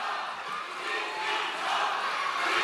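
Crowd at a Democratic Party leadership rally in Korea shouting and chanting together, a continuous loud roar of many voices filling the hall without pause.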